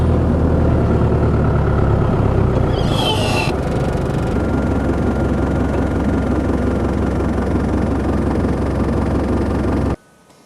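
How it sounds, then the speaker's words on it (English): A 4WD vehicle's engine idles with a loud, steady low rumble close by for about ten seconds, a brief higher whine rising midway, before the engine is switched off and the sound cuts abruptly. "I just stopped and switched the engine off"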